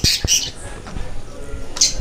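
Small birds call near a launch boat out on the sea off Puri, giving sharp squawks at the start and again near the end over a steady background rumble.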